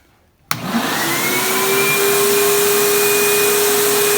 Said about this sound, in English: Get the vacuum going. Wait for it to vacuum down and get a nice positive contact going.